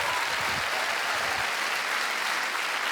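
Dense, loud applause from a comedy show audience in Namur as a comedian takes the stage, a continuous wash of many hands clapping with no break.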